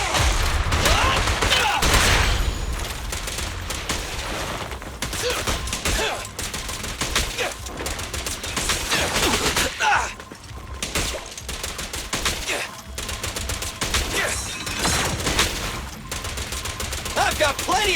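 Gunfire in the action video game Zenless Zone Zero comes as rapid, dense bursts of shots and impacts, loud and nearly continuous, with brief character voice lines over the fighting.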